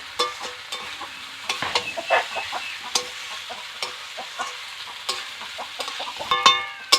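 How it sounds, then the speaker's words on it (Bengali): Dalia being stirred in a cooking pan, with repeated scraping and clinking strokes over a soft sizzle, steady and close throughout, with no voices. "এটাকে কিছুক্ষণ একটু নাড়াচাড়া করে নেবো খুব ভালো করে"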